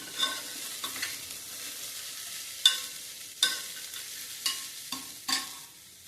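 Sprouted moth bean usal sautéed in a pan: quiet, steady sizzling broken by about half a dozen sharp spoon scrapes and stirs at uneven intervals, close by.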